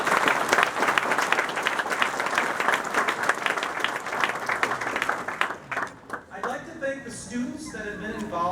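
Audience applause at a high school ribbon-cutting ceremony, a sustained, dense burst of clapping from a crowd that thins out toward the end as a voice begins speaking.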